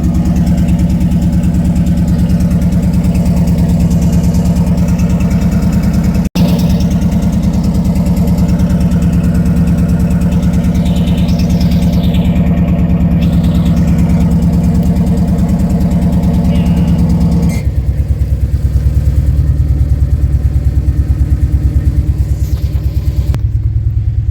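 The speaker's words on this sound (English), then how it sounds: "we're going to show you this Amazon special exhaust cutout" A GMC OBS pickup truck engine idling with an exhaust cutout, a loud steady low rumble with throbbing pulses that drops in tone and gets slightly rougher in the last stretch.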